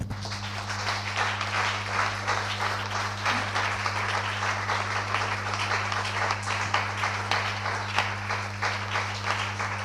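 A church congregation applauding during a French-language worship service, sustained rhythmic clapping from many people over a steady low musical drone, fairly close and even throughout.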